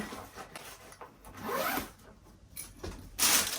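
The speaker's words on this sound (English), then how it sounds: "the zipper just came off" A small bag's zipper pulled in short rasping strokes, a few quick runs with pauses between, close and quiet, ending in a brighter, louder zip as the zipper pull comes off.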